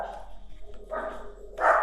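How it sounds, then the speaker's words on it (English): Several dogs bark indoors at someone outside, with bursts of muffled barking and yips coming and going over a steady background hum, loudest at the very end. "I'm sorry about my dogs. I think there's somebody outside."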